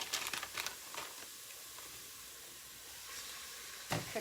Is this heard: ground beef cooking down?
yes